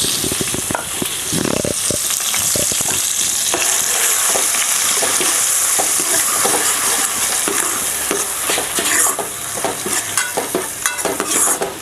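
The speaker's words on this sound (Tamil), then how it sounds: "நல்லா எண்ணெயில் போடுறதுனால தெளிக்கும்" Ground masala paste for Chicken 65 or chilli chicken dropped into hot oil, frying with a loud, continuous sizzle and sharp crackling splatters near the pan, alone without talk.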